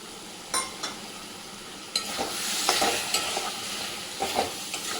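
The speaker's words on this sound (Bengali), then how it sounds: "টমেটো দিয়ে আমি এবার মশলাটাকে আরেকবার ভালো করে কষিয়ে নেব।" Spice paste with tomato stir-fried in a pan for a homemade chicken curry: a low, continuous sizzle broken by scattered scrapes and knocks of a spoon against the pan, fairly quiet and without voices.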